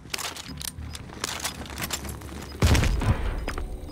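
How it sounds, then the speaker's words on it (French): Call of Duty Modern Warfare gunfire: scattered sharp shots and a heavier burst near the end, loud over game ambience, no talking. "Je reçois des tirs."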